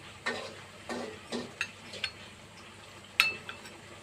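A spoon stirs rice flour paste into a cabbage ghonto in a pan, with about seven or eight light scraping strokes at an uneven pace. The sounds are soft and close, and no one speaks.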